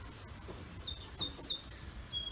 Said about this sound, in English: oh, nice birds.